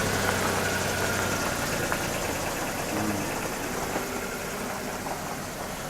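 A car engine idles steadily under a faint high whine, with no starting crank and no talking; the car is being weighed as a first car for a 17-year-old learner driver.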